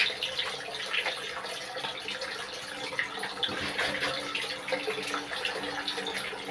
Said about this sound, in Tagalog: magbubuhos na tayo ng tubig